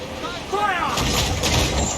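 Ship cannon fire in the naval combat of Assassin's Creed IV Black Flag, a booming broadband blast arriving after a shouted command, with a crew voice over it.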